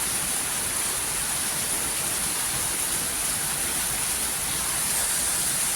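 Heavy rain pours down in a dense, steady roar that stays loud and unbroken throughout, with no voices over it.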